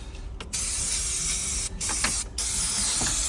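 Brake cleaner sprays hard from an aerosol can during camshaft oil seal and timing belt work, with long loud hissing bursts broken by two brief pauses.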